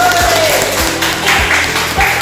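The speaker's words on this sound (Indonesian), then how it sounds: "Oke, kasih tepuk tangan." A short burst of scattered hand clapping from a small classroom group, a few uneven claps ringing out over a brief murmur.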